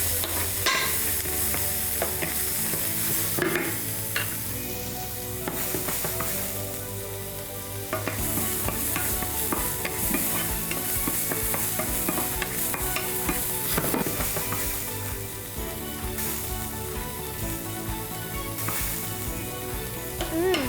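Red onion and other vegetables seasoned with salt sautéing in a pan, with a continuous close sizzle and repeated scraping strokes of a utensil stirring the pan.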